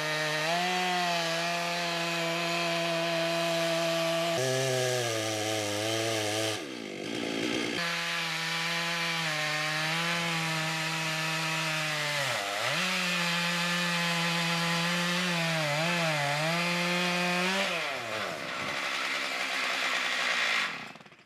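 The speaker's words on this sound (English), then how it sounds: "We wanted to get him to try and saw it up, and not just into sections, but into nice big planks and square 4x4 stakes" A log being sawn lengthwise into large planks and square 4x4 stakes, a loud, continuous droning engine whine that shifts in pitch as the cut loads and eases, close and uninterrupted.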